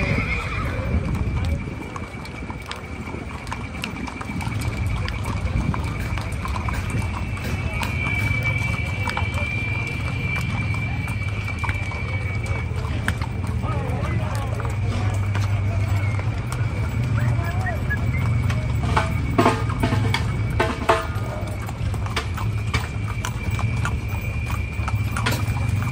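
Horses clip-clop steadily over ground at a village patron saint festival for San Isidro Labrador in Tuzas, Alaquines, with neighs and whinnies rising above a crowd murmur and someone talking loudly throughout.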